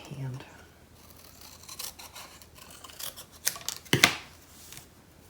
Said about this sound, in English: I'm just going to cut these by hand.